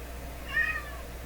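A cat gives one short, moderately loud meow against quiet room tone.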